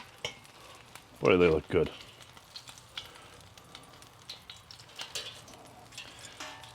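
Chicken skin sizzles and crisps on a Slow 'N Sear kettle grill, a faint steady crackle with scattered pops beneath a brief spoken remark.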